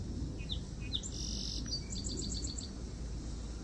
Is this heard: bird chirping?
yes